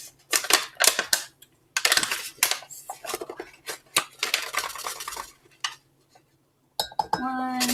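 Flour spooned into a mug for a mug cake, a series of sharp metal-on-ceramic clinks and taps in uneven clusters with short pauses, close and fairly loud, ending in a ringing clink.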